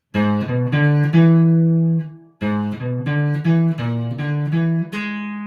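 A clean guitar plays a quick melodic lick of plucked notes outlining a dominant sound and then a flat fifth, then repeats it with slight variation, ending on a sustained note.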